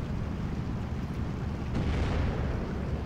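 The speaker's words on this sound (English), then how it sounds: "We do have a friendly division who is dropping 50mm mortars in the IS-1" 50mm mortar shells bursting around an IS-1 tank in a WWII real-time strategy game, a dense, continuous roar of blasts and rumbling battle din with a heavier thump near the end.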